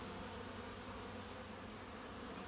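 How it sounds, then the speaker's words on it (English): A swarm of honeybees lodged inside a car door, a dense, continuous buzzing close by, steady and fairly faint without voices. "These bees are really calm."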